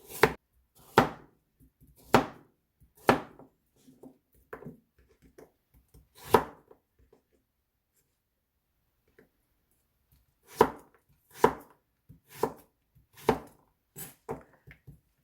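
A knife chops carrot on a cutting board in crisp, evenly spaced strokes, about ten in all, with a pause in the middle before the run resumes. The chopping sounds close and clear and is heard alone.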